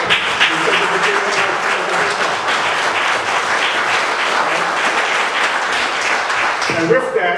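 An audience at a Central Virginia hip hop history event gives a sustained round of applause, loud and continuous, with cheering and a voice mixed in under the clapping.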